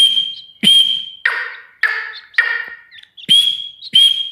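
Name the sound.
whistle played to a grey partridge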